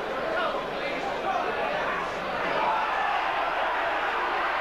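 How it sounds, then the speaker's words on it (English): A big football crowd at a 1988 Brentford v Port Vale match keeps up a loud, dense, continuous roar that swells slightly midway, with indistinct voices mixed into the wash of noise. "the crowd roaring once again"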